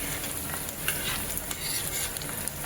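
Onion fries in a pan with a ground chili kharda paste, giving a continuous soft sizzle broken by light clicks and scrapes as it is stirred, close up with no talking.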